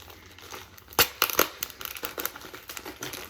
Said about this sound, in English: Maybe just like kind of rip it open.